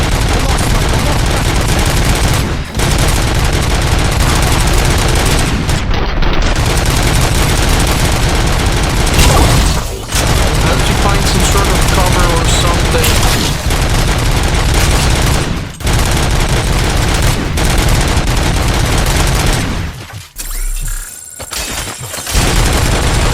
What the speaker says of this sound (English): has that machine gun. That's still a fun weapon to have.